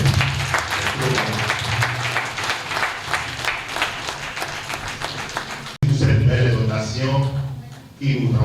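An audience claps after a health talk in Cotonou, with a busy, sustained round of applause that cuts off abruptly, followed by someone speaking over a low hum.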